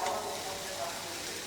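Potatoes fry in a pan, giving a steady, fairly quiet, even sizzle that holds unchanged from start to finish.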